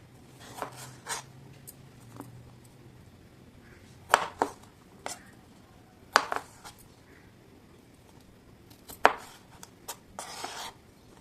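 A kitchen knife chops fresh tomatoes on a board at home, giving sparse, crisp thuds in small clusters with quiet gaps between them and no talk.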